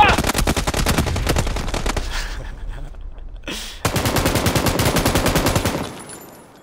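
Rapid automatic gunfire rattles in PUBG, a loud close burst of fast shots for about two seconds, a short gap, then a second long burst that tails off.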